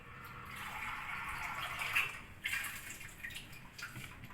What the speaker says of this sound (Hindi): अच्छे खासा पानी इसमें डालेगा।